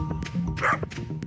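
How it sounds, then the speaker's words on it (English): A dog gives a few short yips and woofs at close range, mixed with a faint background hum, during a cozy farming-game stream. "That's our dog."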